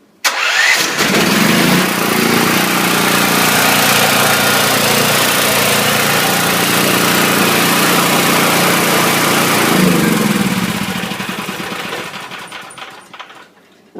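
A portable generator with a Chinese-made engine cranks, catches and runs steadily at full, loud speed for roughly ten seconds before the sound tapers off toward the end.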